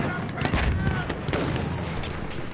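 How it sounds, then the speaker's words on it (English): A grenade explosion in a multiplayer video game on PS4, a loud boom amid dense battlefield noise and scattered gunfire, with players talking over the chaos. "There's a grenade for us!"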